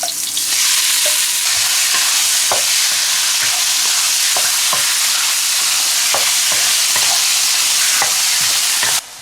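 Meat already pan-fried is tossed back into a hot wok with Sichuan peppercorn oil and lamb, sizzling loudly and steadily throughout with repeated scraping stir strokes, no talk.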